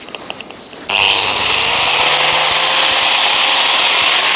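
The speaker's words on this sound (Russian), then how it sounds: "Болгарка со шлифовочным кругом. Сейчас шлифану" After a few quiet knocks, an angle grinder fitted with a sanding disc starts abruptly and grinds loudly and continuously against wood, a harsh, close, steady whine with no talk.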